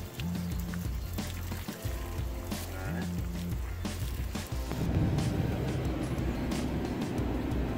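An RV cruising along a road in Key Largo in the Florida Keys, with a continuous loud engine and road rumble and low droning tones throughout, without speech.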